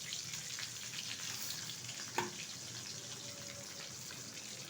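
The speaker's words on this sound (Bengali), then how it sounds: "এখন দিয়ে দেবো কিছুটা গোটা জিরে ফোড়ন" Whole cumin seeds hit hot oil in a pan used for frying a katla fish head, giving a steady, close hiss of sizzling with one brief clink partway through and no voices.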